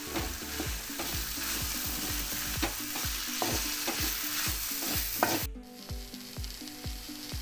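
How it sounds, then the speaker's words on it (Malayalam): Chili powder and coriander powder sizzle in oil in a pan for chicken roast while a spoon scrapes rhythmically through them, regular close strokes over a steady fry that quietens near the end. "ഒന്നര ടേബിൾ സ്പൂണ് മുളക് പൊടി ഇതിൻ്റെ ആ പച്ചമണം മാറുന്നവരെ നമുക്കൊന്ന് വഴറ്റി കൊടുക്കാം"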